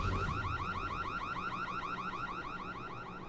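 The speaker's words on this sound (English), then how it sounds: "I hate that alarm noise" Alarm noise in the video game Secret World Legends, a rapidly warbling electronic siren that repeats in fast even cycles, loud and steady for the whole stretch with no talking.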